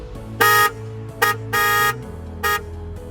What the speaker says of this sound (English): in case you guys want to hear what the horn sounds like